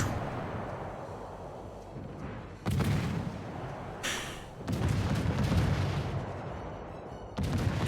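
Naval guns on the Haragumo destroyer boom in a warship video game, several heavy salvos landing at uneven intervals, each loud and rumbling, with sustained roaring between shots and no talk.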